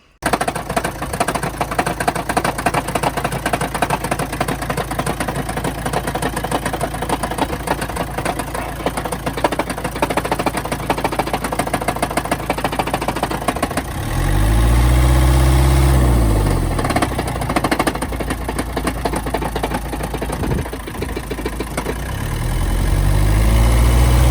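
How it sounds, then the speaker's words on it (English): Loud Vauxhall Mokka engine idling with a harsh, uneven rattle and knock at low revs from a failed flywheel, briefly rising and falling as the throttle is blipped twice. "the engine was very rattly at low revs"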